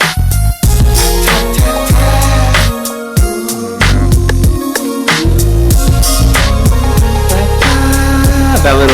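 A bright G-funk synth keyboard line rides over a thick, bouncing beat with deep bass, playing loud and continuous with a brief dropout near the middle.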